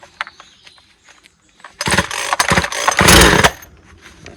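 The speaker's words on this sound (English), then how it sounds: "No decompression valve, just have to pull it and it starts up." Husqvarna 136 or Stihl 023c chainsaw pull-started with the choke out: a few short cord-pull rasps, then the engine fires and roars loudly for about two seconds before cutting off, close by.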